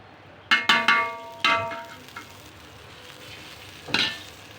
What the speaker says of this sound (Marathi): मस्त असं बटर टाकून आपले पाव छान असे भाजून